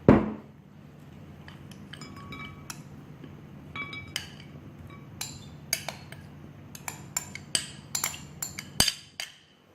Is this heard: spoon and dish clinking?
yes